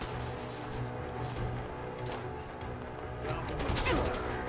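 Gunfire in the video game Fallout 4, a dense, continuous barrage of shots and impacts that grows heavier toward the end, with no speech over it.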